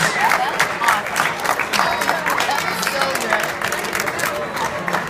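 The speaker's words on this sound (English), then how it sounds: "Wow, Marvel, two round of applause for the sisters of the bride." Wedding reception guests applauding the bride's sisters, sustained clapping from a crowd with cheers and chatter mixed throughout.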